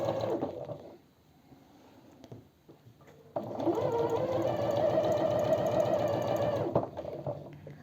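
A sewing machine stitches a seam a presser-foot width in from an overlocked edge while a party dress is being made. After a quieter stretch, a steady close whirring hum runs for about three seconds, then stops.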